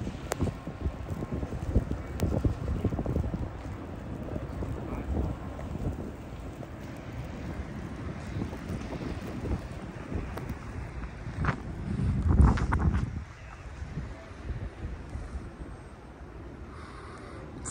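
Strong wind during a snowstorm at the Hinsdale Metra station roars and buffets the microphone in uneven gusts, rumbling low with a louder surge partway through.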